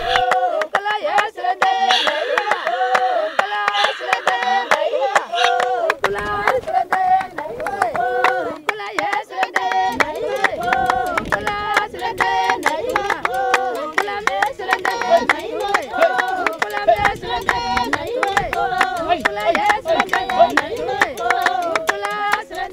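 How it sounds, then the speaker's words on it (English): Syncopated group hand clapping with chanting voices, a dense steady rhythm of many claps under sung vocals throughout, loud and close. "to join them by merging with their syncopated clapping and chanting"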